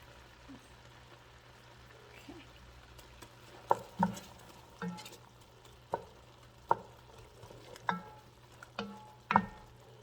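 Onions cooking in salted butter in a pot for one-pot beef stroganoff, a faint steady sizzle broken by several sharp stirring scrapes and clicks of a utensil against the pot.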